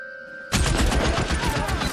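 Rapid gunfire in a L.A. Noire shootout bursts in abruptly after a brief quiet hum, then rattles on as a loud, dense volley of shots with rhythmic peaks.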